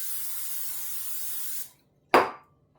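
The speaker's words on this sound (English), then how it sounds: "I'm going to spray it with some olive oil." Olive oil cooking spray hisses steadily into a loaf pan for about a second and a half, stops, then gives one short, sharp burst close by.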